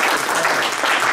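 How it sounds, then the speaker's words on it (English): Audience applause at a conference talk, dense continuous clapping from a room full of people, loud and even throughout. "I'd like to put our hands together a second time to applaud everybody in this room"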